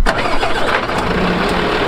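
A Unimog U430's 7.7-litre six-cylinder diesel engine cranks and fires up, settling into a steady, loud rumble close by with no talking.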